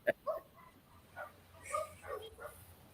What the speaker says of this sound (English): Hope those dogs aren't too loud in the background.